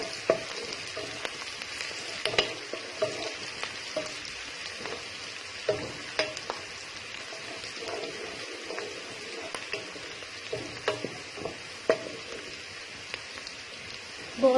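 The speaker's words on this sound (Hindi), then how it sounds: "ये देखिए मैंने कढ़ाई में ऑयल ऐड कर दिया है और मैं इसके अंदर प्याज ऐड कर देती हूँ" Onions sizzle in hot oil in a kadai for a dhaba-style mixed vegetable dish, a steady rain-like hiss over the whole stretch, broken by faint scrapes and clicks of stirring. No voices are heard.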